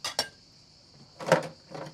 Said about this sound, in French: Nous, on fait toujours la vaisselle à la main